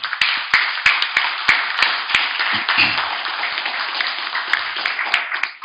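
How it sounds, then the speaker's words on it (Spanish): A community audience applauding to welcome guests at a formal academy session, steady clapping from a modest crowd with a few sharper claps standing out, fairly close and continuous with a brief murmur midway. "a doña Elizabeth y a don Manuel con un aplauso de nuestra comunidad de Sarapiquí"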